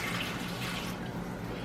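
Warm water at about 105 to 110 degrees poured into the bottom of a bowl for homemade sourdough bread dough, a steady close liquid rush that thins slightly toward the end, with no talking.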